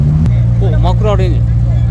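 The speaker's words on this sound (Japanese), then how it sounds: "マクラーレン720。" A McLaren 720S supercar at the Fuel Fest Japan event at Fuji, its engine a loud, steady drone that steps up in pitch early on while excited voices talk over it.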